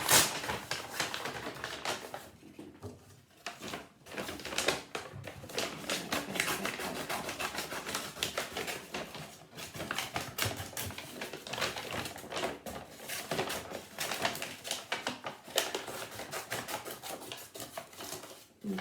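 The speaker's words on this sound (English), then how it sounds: "I am going to cut out from my paper bag." Scissors snip and crunch through a paper bag with many close, dense cutting and crinkling sounds in an irregular rhythm, and no talking over them.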